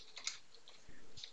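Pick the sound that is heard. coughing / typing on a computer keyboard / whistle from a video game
typing on a computer keyboard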